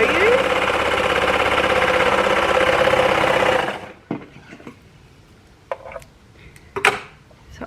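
An overlocker stitching rayon spandex fabric with differential feed runs as a loud, steady mechanical whir for about four seconds, then stops abruptly, leaving a few faint clicks and handling noises.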